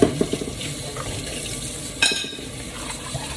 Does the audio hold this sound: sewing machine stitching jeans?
no